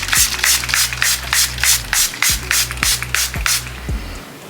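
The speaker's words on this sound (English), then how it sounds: "And to finish it off, I use my setting spray" A makeup setting spray bottle spritzes in quick, evenly spaced hissing puffs, about eight in a row, with a low steady hum underneath.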